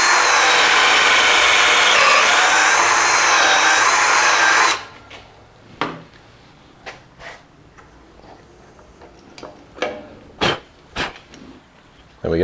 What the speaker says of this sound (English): It's got a pilot hole and then it drills in the hole for the pocket screw.